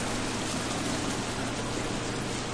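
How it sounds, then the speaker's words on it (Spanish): A waterfall in the survival video game The Forest gives off a loud, unbroken rush of water, a constant broadband roar with no pauses or voices. "ahí veo una cascada."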